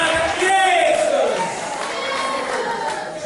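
A church congregation shouting Jesus together, a loud mass of raised voices that peaks early and trails into a sustained crowd roar.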